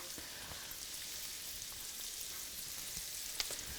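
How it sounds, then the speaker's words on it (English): Red onions sauté in a pot for a one-pot orzotto, giving a soft, even, continuous frying hiss with a few faint crackles and no voices. "I'm going to saute some red onions here"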